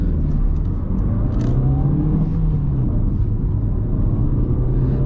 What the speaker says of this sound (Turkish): Uygun bir zamanda 0-100 yapmaya çalışacağım.